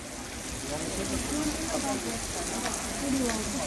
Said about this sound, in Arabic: شوف خيوط سبحان الله، خيوط تاع المطر.